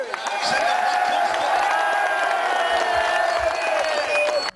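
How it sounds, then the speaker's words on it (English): A crowd at an English Defence League rally in Brighton cheers and applauds loudly and steadily throughout, with whoops and voices mixed into the roar. "this dude's racial slur is met with rapturous applause by everyone present"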